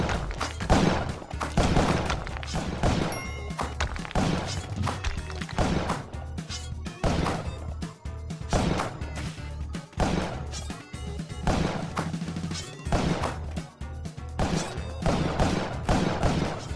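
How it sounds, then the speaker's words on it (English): Bombs exploding in the cave platformer Spelunky, repeated booming blasts and crashing thuds at irregular intervals, loud and close, mixed with other game effects. "Standard bombing procedure."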